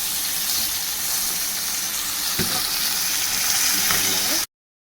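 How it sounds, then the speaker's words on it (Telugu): Grass carp fish pieces fry in a little oil in a pan with a close, steady hissing sizzle and a couple of soft clinks before the sound cuts off abruptly. "ఇలాగ చేపలు ఫ్రై వేసుకున్నాక"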